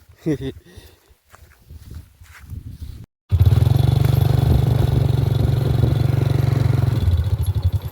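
A motorcycle engine starts after a short pause and runs steadily and loudly up close, with scuffling and movement sounds before it.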